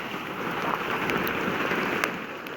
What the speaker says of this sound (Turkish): Erzincan'a da yağmur yağıyor.